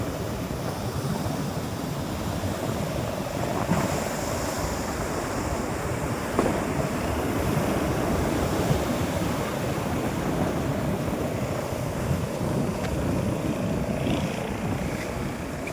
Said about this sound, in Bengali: বিশাল বড় সমুদ্র।